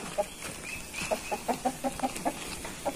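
European Samu hen clucking in a quick, fairly regular series of about a dozen short, soft clucks, close by against quiet farmyard background.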